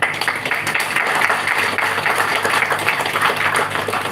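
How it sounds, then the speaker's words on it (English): Sustained, dense applause from the audience at an evening session of a national conclave on democratic governance and citizens' rights, steady and fairly loud throughout with no voices on top. "I think we should all give a huge applause to them."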